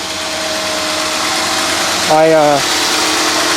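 A 1991 Mercedes-Benz 420 SEL engine idles high at about 1000 RPM with a steady, loud, even hum, briefly joined midway by a short rising tonal whine.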